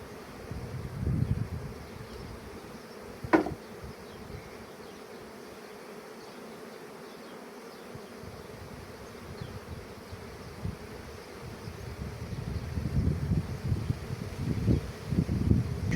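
Honey bees buzz around an opened hive, a dense continuous drone close to the microphone that swells louder toward the end, with a sharp click early on.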